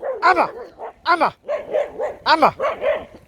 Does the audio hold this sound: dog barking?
yes